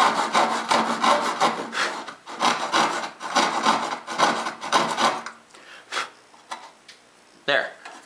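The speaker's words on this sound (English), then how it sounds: "I can start sawing and dropping the back of the saw as I go" A hand saw cuts wood for a birdhouse in close, rhythmic back-and-forth strokes, loud and steady for about five seconds, then slowing to a few scattered strokes.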